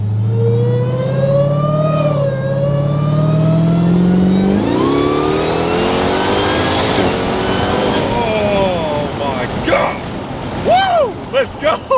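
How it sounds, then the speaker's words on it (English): A 1000 hp Dodge Durango Hellcat with a Legmaker intake revs hard, the supercharger whine rising and sweeping up in pitch over a loud engine roar. A few short vocal bursts come near the end. "now you got this insane supercharger just screaming like"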